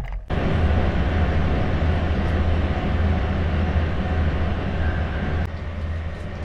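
A loud, steady rumble of a train rolling along the rails, with constant low drone and rattling, heard from inside and continuing throughout.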